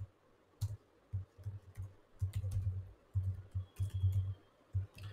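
Computer keyboard typing while writing C code for a string-to-lowercase function, an uneven run of close, soft key clicks in short bursts, with no talking.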